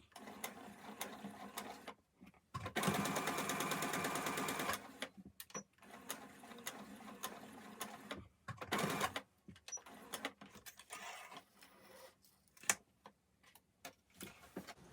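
Sewing machine stitching a straight seam on a fabric mask or scrub cap, with a long steady run of motor whir and needle clatter, a second shorter burst for the back stitch, and quiet handling clicks between.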